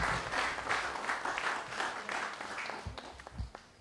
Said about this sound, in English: So a round of applause for Mrs. Moplesi and her wonderful staff.